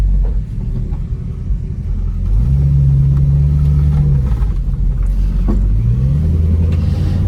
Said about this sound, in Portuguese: esse é um motor aqui que, além de ser um 440, tá? Ele veio com uma preparação dos Estados Unidos.